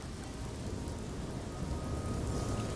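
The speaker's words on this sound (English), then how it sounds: "This is the painfully hot rain." Painfully hot rain in the No Man's Sky game hisses as a dense, steady downpour, broadband and constant, heard alone without speech.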